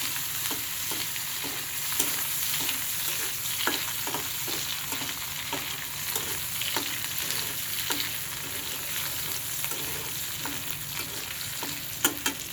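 Pulao and sliced onions fry into beresta in a pan, with a steady loud sizzle and regular scraping strokes of a spatula stirring throughout, no voices.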